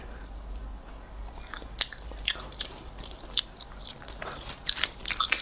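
Mango cake being eaten up close, with soft bites and chewing and a few crisp, louder mouth sounds spaced irregularly over a quiet low hum.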